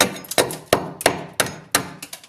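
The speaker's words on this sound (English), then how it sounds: "that, and with the hammer to get it off" Hammer striking a chisel to knock leftover tile adhesive off a kitchen wall during renovation, five or six sharp metallic knocks in an uneven rhythm, close and loud, with no talking.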